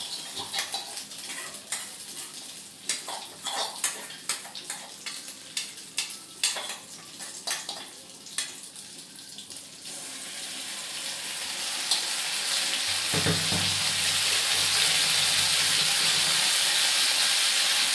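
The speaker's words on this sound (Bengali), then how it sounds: "ওটাকে আমরা এই তেলের মধ্যেই দিয়ে দেবো। আর এরপর এটাকে ভালো করে আমরা ভাজতে দেবো।" Ginger garlic paste hitting hot oil for restaurant-style chili chicken: first scattered clinks and stirring taps, then the sizzle swells into a loud, steady close-up frying hiss for the last several seconds, no talk.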